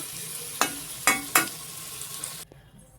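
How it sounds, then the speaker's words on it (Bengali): Oil sizzles steadily in a pan of frying potatoes, broken by three sharp clatters of a utensil stirring, and the sizzle cuts off abruptly near the end. "খুব ভালো করে আমি ভেজে নেবো"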